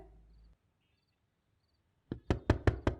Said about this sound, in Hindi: दरवाजा मत खटखटाओ, सो रहा हूं मैं